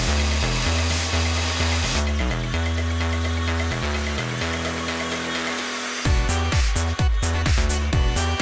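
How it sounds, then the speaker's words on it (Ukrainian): Kitchen blender whirring through smoothie ingredients with yogurt: a loud steady motor drone that shifts pitch in stages, then several short pulsed bursts near the end, no talk. "Покладіть всі інгредієнти в блендер і збийте до отримання однорідної маси."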